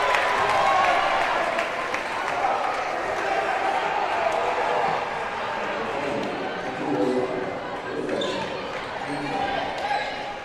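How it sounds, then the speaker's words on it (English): A basketball crowd at a Wolves versus Buffalo Bison girls' game roars loudly and steadily after a charge call. The din of cheering and applause fills the court and holds for about ten seconds. "you can hear the explosion from the crowd as they got that call"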